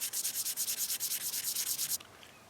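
Steady rhythmic strokes of hand sanding on a small wooden knife handle, close up, about a dozen quick back-and-forth rubs before stopping.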